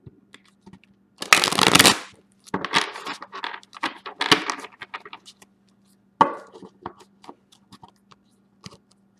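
Tarot cards are shuffled by hand in a close, crisp riffle burst, then several shorter rustling shuffles and scattered taps and card clicks over a faint steady hum.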